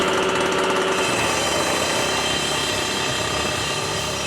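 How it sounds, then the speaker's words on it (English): Steady loud roar of a large engine powering a heavy concrete-cutting machine at a house, cutting a hole into the crawl space area, running continuously with a rattling mechanical texture and no pauses. "This engine, it's a large engine. The machine itself is really heavy"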